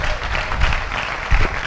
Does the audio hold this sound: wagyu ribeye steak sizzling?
no